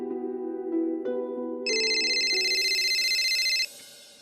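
A mobile phone rings with a looping electronic ringtone melody, first in lower tones and then a brighter repeating chime for about two seconds before it stops. No one speaks over it.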